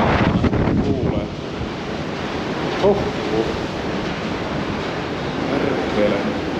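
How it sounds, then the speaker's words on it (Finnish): Strong wind buffets the microphone in a steady roaring rush, with brief gusts and no clear talk. "Oi oi, kun tuulee,"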